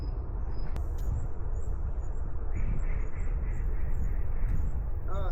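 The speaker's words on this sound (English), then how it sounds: "Ah, here are the ducks." Ducks quacking outdoors, a few short nasal calls clustered in the middle and again at the end, fairly faint beneath a steady rumble of wind and background noise.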